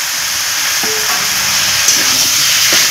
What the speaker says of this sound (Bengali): এখন আমি দিয়ে দেব ভেজে রাখা আলুগুলো।